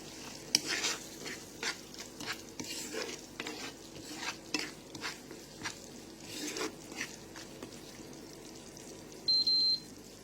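Masala spice paste frying in a pan for a mustard hilsa curry, with a soft continuous sizzle and repeated scraping strokes of a spoon stirring it, plus a short beep near the end.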